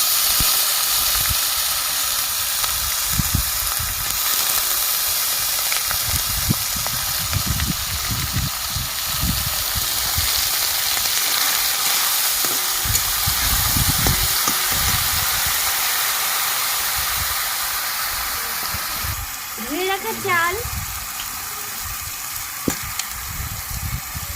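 Gobindobhog rice khichuri base of whole garam masala, chopped ginger and lentils sautéing in a pan, giving a steady loud sizzle and hiss with stirring scrapes throughout and a brief bubbling burst near the end.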